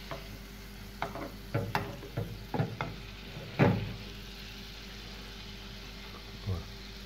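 Butter frying in a pan with water added gives a faint, steady sizzle, broken by several quick scraping and clacking stirs in the first few seconds and one more near the end.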